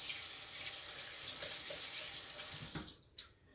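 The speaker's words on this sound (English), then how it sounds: "Rinse my hand off again." Water runs steadily from a tap with a splashing hiss as hands are rinsed, then cuts off abruptly near the end, leaving a brief clink.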